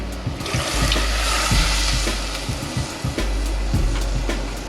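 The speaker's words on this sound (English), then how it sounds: "I'm gonna add some water to it." Water poured into a cooking pan of chicken adobo with garlic and sauce over a big flame, a steady broad rushing stream lasting several seconds with faint clinks, no talk.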